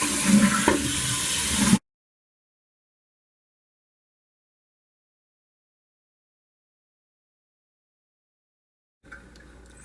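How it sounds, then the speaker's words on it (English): A toilet flushes in a brief rush of water, loud and close, cutting off abruptly into silence before a faint low hiss returns near the end. "Okay, so now I'm going to flush it"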